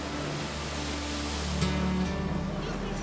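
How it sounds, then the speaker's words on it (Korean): Loud, steady roar of ocean waves and strong wind on the Greek island of Mykonos, a dense continuous wash of surf with gusts rising slightly partway through, no voices. "오늘도 파도와 바람이 요란해 고기 빼는 바다에 나갈 수 없었다."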